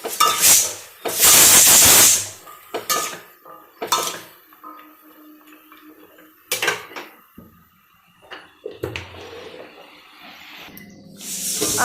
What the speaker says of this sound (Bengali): আর আলুটা ভাজছে